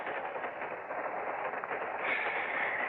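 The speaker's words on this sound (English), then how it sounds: "Crummy train, no privacy." A radio-drama train sound effect gives a steady, muffled rolling rumble of a moving train, continuous and mid-distance, thickening slightly toward the end; no talking over it.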